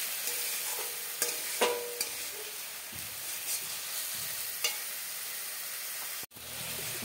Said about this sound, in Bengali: এটা একটু নাড়িয়ে চড়িয়ে নিল, একটু লাল লাল করে ভাজা হবে